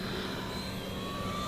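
An E-flite Air Tractor 1.5m RC crop duster plane on a 3S or 4S battery passes overhead, its electric motor making a steady, loud, broadband whine with a faint tonal hum throughout and no speech.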